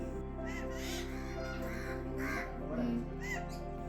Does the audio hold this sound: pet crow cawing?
yes